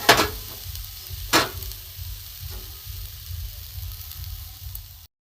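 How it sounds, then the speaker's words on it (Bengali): Grated coconut frying in a wok on a gas stove gives a steady, close sizzle with a few sharp scraping stirs near the start, alone without talk. "এখানে আমি গ্যাসে কড়া বসিয়ে দিয়েছি। এতে আমি নারকোলগুলো দিয়ে দেবো।"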